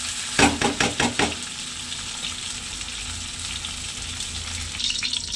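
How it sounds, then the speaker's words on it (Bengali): Onions frying in oil for crispy fried-onion garnish for a jackfruit biryani, with a quick series of scraping stirs at the start, then a steady loud sizzle that goes on to the end. "ভালোভাবে পেঁয়াজটাকে নাড়াচাড়া করে ভেজে নিচ্ছি"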